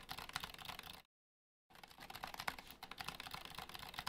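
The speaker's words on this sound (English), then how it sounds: "As you can hear there, a silent keyboard." Typing on a custom mechanical keyboard fitted with silent switches gives a steady stream of soft, muffled key clicks at close range, broken by a short pause before the typing resumes.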